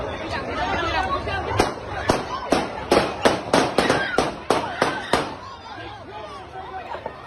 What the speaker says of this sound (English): You hear the shots ring out, the crowd ducks for cover, and officers run in.